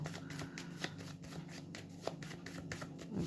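Cards being shuffled up close, a steady papery riffling with soft flicks and taps throughout, no voices.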